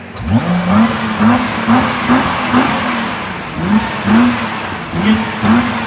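A parked Nissan GT-R engine is blipped again and again, each rev rising and falling in a quick, loud, close rhythm with no talk over it.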